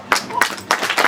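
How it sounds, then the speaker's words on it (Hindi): Applause from an audience at a workshop celebration, a short burst of dense clapping that swells in a few waves and stays loud and close throughout. "जोरदार तालियां"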